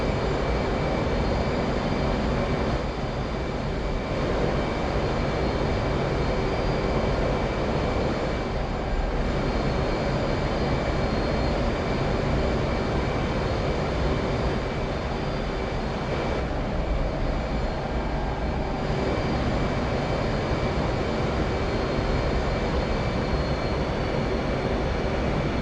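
Steady engine drone of a combat jet on landing approach in a flight video game, a loud continuous roar with a few brief dips, heard alone without voices.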